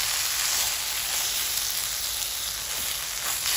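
Pork chorizo frying in a cast iron pan on a Solo Stove, a steady close hiss and crackle that stays even throughout with no voices.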